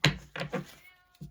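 A cat meows several times in quick succession, close and fairly loud, with short pauses between the cries.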